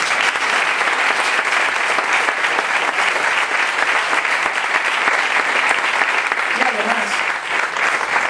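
A crowd at a campaign closing event applauds steadily and loudly, a thick, continuous wash of clapping that holds without a break from start to finish.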